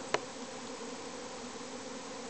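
A honeybee swarm buzzes outdoors as a faint, continuous drone at a distance, with one brief click near the start and no voices.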